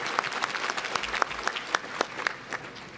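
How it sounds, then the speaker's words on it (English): Clapping from a university award audience honoring a professor, a moderate crowd with sharp individual claps spread across a few seconds, fairly close. "let's give her a round of applause"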